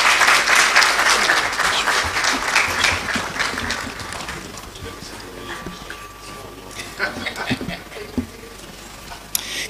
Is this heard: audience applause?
yes